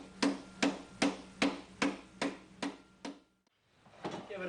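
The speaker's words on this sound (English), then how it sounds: "Give it a few whacks from the outside with a flat face hammer" Flat face hammer shaping a steel armor plate for a 14th century arm harness on a bighorn anvil, giving eight sharp metallic strikes in a steady rhythm, close and fairly loud, then a brief pause and a softer knock.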